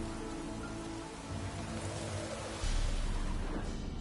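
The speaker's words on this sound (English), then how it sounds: "Looks like rain." Dense, steady hiss of falling rain in The Witcher 3, growing a little heavier toward the end, with a low rumble underneath.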